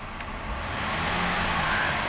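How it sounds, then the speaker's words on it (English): A 2013 Buick LaCrosse sedan engine revs up from idle, its loud, steady roar building and holding close by without any talk. "The car is running right now. Keep an eye on the tachometer on the right hand side of your screen. I'm going to rev the engine."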